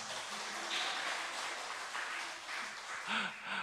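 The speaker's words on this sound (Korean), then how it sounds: "박수로 좀 환영하도록 하겠습니다" A church congregation claps in welcome during a Friday worship service, a steady wash of mid-distance applause with faint voices rising briefly beneath it.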